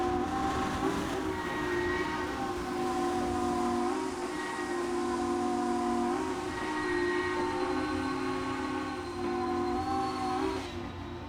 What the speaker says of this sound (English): it waited so late to blow the whistle there